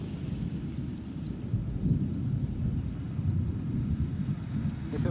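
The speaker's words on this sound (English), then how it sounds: "that really loud thunder" Rumbling thunder rolls continuously through a severe thunderstorm, loud and low, with steady rain and wind noise beneath and no clear break across the whole stretch.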